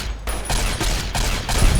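A rapid burst of gunfire using optimized ammo in Fallout New Vegas, with several loud, close shots fired in quick succession.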